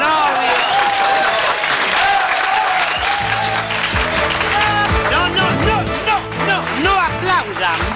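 A studio audience on a Latin American comedy show applauds loudly and continuously, a dense wash of clapping with voices talking and shouting over it throughout.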